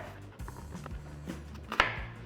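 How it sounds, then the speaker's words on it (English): Knife chopping an ingredient into chunks for a jerk chicken marinade, a few dull cuts against a board with one sharper chop near the end, close and alone. "So I think you're just gonna cut that in like 6 or 8 pieces."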